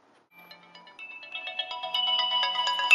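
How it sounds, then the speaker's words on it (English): A phone plays a new text message notification tone, a short melodic chime sequence that starts faint after a brief silence and builds louder over about three seconds, with nothing else heard. "So a little bit different notifier because I was still actively using the phone"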